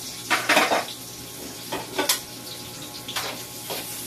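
Garlic, onion, ginger and lemongrass sauté together in a pan, with a soft continuous sizzle under several bursts of a utensil scraping and clattering against the metal.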